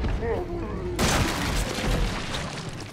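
Gunfire in Resident Evil 7: a sharp burst erupts about a second in and gives way to loud, dense, continuous noise, with faint speech-like sound before the shots.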